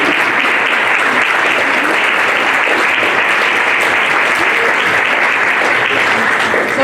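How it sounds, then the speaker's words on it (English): A large conference audience applauds loudly and steadily for certified attendees standing up, a dense, continuous wash of clapping hands that holds at full strength throughout. "We'd like to give you a round of applause."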